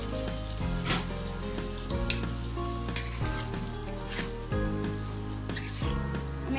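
Cut stem vegetables and potatoes hit hot spice paste in a pan, sizzling loudly and steadily with stirring scrapes throughout, no voices.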